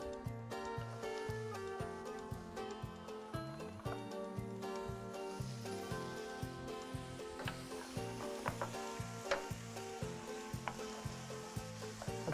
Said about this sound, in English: Let's saute these up until the carrots and celery become nice and tender.